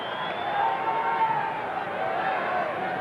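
Steady crowd murmur fills a 1996 Ansett Cup quarter-final of Australian rules football between North Melbourne and the Brisbane Bears, subdued and continuous with no sharp cheers, a broad distant hubbub throughout.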